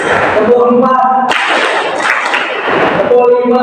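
Students in a classroom clap out a rhythmic pattern in unison, a brief spoken prompt giving way to a loud, dense stretch of group clapping that then stops as the voice returns.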